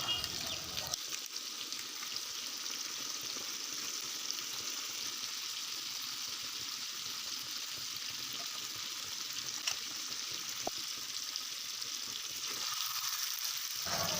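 Chicken pieces frying for bhuna in a pan, a steady bright sizzle running unbroken for the whole stretch, quiet and close with occasional faint stirring.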